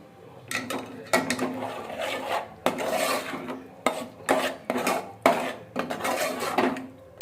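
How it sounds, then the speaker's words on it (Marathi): A thick besan (gram flour) slurry goes into a pot of Maharashtrian amti and is stirred in, with repeated loud metal scrapes and clanks of a spoon against the pot, arriving in uneven bursts and no talking. "हा जो बेसनाचा घोळ आहे हा आपण आता टाकून घेणार आहोत आपल्या आमटीमध्ये आणि पुन्हा एकदा मिक्स करून देणार आहोत"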